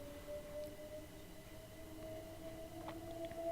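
Simulated train running on the Brighton Main Line in the Train Sim World 2 video game, heard from inside the cab: a steady, fairly loud hum and drone with sustained tonal whine and brief higher squeals, no talk.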